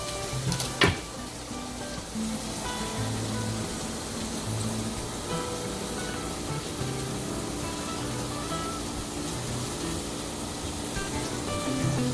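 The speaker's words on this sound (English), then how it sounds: "Let that saute a bit. We're going to let them caramelize until they're translucent." Onions saute in a pan, slowly caramelizing toward translucent, with a steady, even frying hiss that holds for the whole stretch. A single brief clink comes near the start, and no voices are heard.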